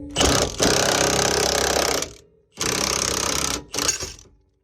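Impact wrench with a 22 mm socket hammering on the rear suspension of a Nissan 350Z during a toe gain bracket install: two long, loud rattling bursts and a short third burst, close up with no talk.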